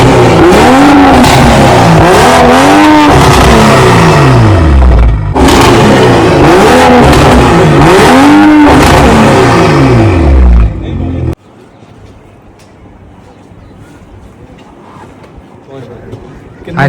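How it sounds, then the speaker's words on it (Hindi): A tuned BMW M340i engine revs hard and loud, rising and falling in repeated sweeping pulls with a brief drop in the middle, then cuts off sharply to a much quieter idle-like hum. "अब आपको गाड़ी की जो साउंड है हम वो सुनाएंगे,"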